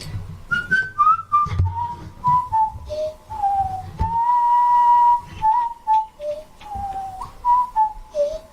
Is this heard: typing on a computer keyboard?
no